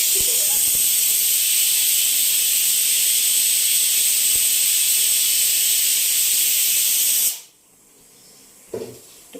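A pressure cooker, with chicken cooking in it, lets out a loud, continuous hissing steam whistle for about seven seconds, then it cuts off sharply into near quiet with a brief faint clatter afterward.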